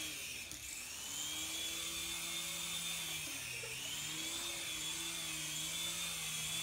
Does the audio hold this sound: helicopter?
yes